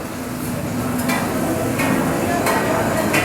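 Oysters frying on a griddle at a market stall give off a steady sizzle, with a few metallic scrapes and clinks over busy outdoor background.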